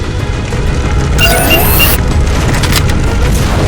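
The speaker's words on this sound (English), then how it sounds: "Target those phantoms for the railgun to shoot down" A railgun fires at Phantom dropships in the video game Halo 4, one heavy boom with a bright metallic whine and crackle lasting under a second, over steady loud battle rumble.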